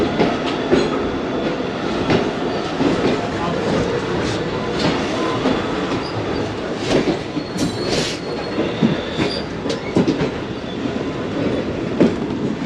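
The 14DN Awam Express runs on rails between Peshawar and Lahore, with a continuous loud rumble, a rhythmic clickety-clack of wheels and intermittent squeals heard from close by.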